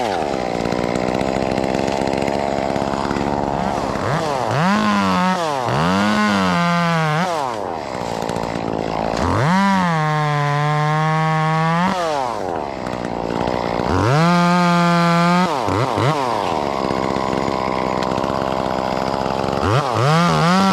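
A chainsaw cuts through a large tree limb, high in a tree, revving in repeated bursts between loud sustained cuts and dropping to a rough idle in between.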